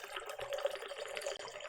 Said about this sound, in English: You hear my nice bubbly water there.